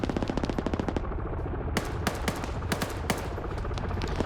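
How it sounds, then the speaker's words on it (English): A fast-firing .50 cal machine gun in a video game hammers out long, loud bursts of rapid, evenly spaced shots at close range, with further gunfire cracking in between. "the gunner is returning fire with that fast-firing 50 cal machine gun"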